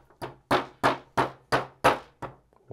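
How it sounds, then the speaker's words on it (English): A flathead screwdriver taps the bearings out of Pedaling Innovations Catalyst pedals: seven sharp metallic knocks in a steady, even rhythm, close and clear with no talking. "with a flathead screwdriver, we're just going to tap these bearings out"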